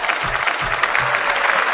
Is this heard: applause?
yes